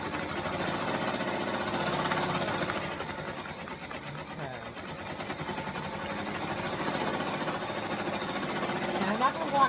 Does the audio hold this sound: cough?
no